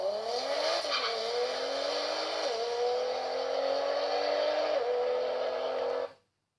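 A car engine accelerates hard, climbing in pitch through several gear changes with a brief dip at each shift, loud and close, before cutting off abruptly.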